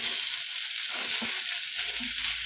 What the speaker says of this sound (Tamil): வெங்காயம் வதங்கிடுச்சு இந்த தக்காளி போட்டுக்கிறேன்